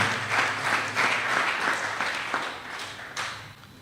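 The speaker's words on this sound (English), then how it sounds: "put a wonderful, warm round of applause for them" Warm audience applause for donors at a donor appreciation ceremony, a dense, sustained patter of many hands that gradually thins toward the end.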